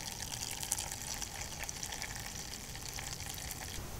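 Wort drains from a small home-brew mash in a steady, soft trickling stream of liquid, faint and continuous with no talking over it.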